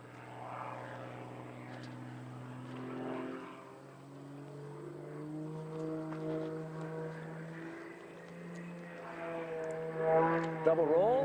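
An aerobatic propeller plane flies competition maneuvers at the US Nationals, its engine a droning tone that rises and falls in pitch as it loops and rolls at a distance, under steady commentary from a man.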